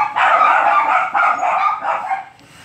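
A dog barks loudly and close by in a rapid string of about four barks, then trails off into a softer yip near the end.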